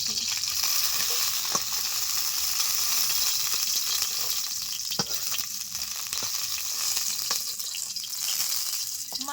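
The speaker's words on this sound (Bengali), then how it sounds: "মাছগুলো ভেজে নিয়ে এসেছি তুলে নিচ্ছি" Small puti fish fry in oil in a wok. A steady, moderately quiet sizzle runs throughout with a few sharp clicks and scrapes.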